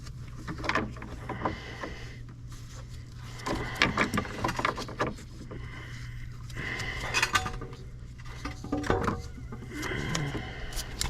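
Small channel-lock pliers grip and turn the plastic drain plug at the bottom corner of a Kia Soul or Forte radiator, making scattered close metallic clicks, taps and scrapes in an irregular rhythm, with no talking.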